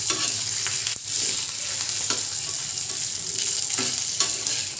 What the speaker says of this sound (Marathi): चांगलं परतून घ्यायचं आहे इथे आपल्या लसूण सुद्धा भाजला जाईल